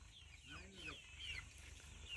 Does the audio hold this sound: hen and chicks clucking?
yes